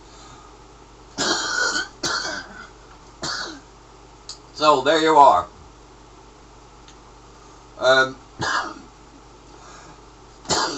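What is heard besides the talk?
cough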